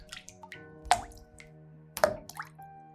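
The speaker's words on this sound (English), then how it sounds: "an inexplicable dripping sound was heard" Water drips in an eerie, quiet house: a few distinct, resonant plops spaced about a second apart, with faint smaller drips between them.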